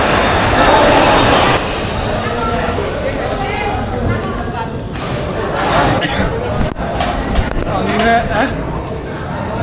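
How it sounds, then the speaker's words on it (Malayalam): A small terrain-train roller coaster at Wonderla Bangalore rumbles and clatters along its track, with people chattering in the background over the steady rolling noise. "ടെറൈൻ ട്രെയിൻ എന്ന് പറഞ്ഞിട്ടൊരു പരിപാടിയുണ്ട്. ചെറിയൊരു റോളർ കോസ്റ്റർ"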